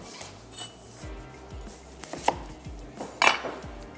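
A knife chops an onion finely on a cutting board in a home kitchen, giving a steady series of close, crisp taps roughly every half second, with a few sharper clacks near the end and no talking.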